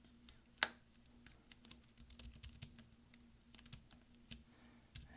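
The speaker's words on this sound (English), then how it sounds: "You'll hear lots of snaps." Rapid small plastic snaps as the right Shift key clips of an early 2011 13-inch MacBook Pro are pressed into place, one sharp click followed by many faint scattered clicks.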